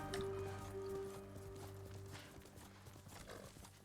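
Horse hooves galloping in Ghost of Tsushima during a charge against Mongol soldiers, a steady clip-clop rhythm close up under continuous game music and ambience.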